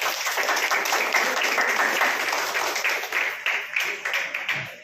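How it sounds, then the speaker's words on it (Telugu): Audience applause at a singing competition held for a branch opening in Malkajgiri, welcoming a TV anchor guest; dense, steady clapping fills the room throughout, with some voices mixed in. "ఒకసారి చప్పట్లు కొడదాం."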